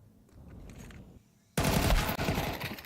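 Rapid AK rifle bursts from Counter-Strike 2 in a Lithuanian CS2 qualifier match burst in loud and close halfway through, after quieter in-game ambience and footsteps, with dense sustained shots to the end.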